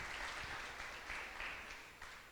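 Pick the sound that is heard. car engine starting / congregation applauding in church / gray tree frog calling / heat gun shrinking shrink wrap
congregation applauding in church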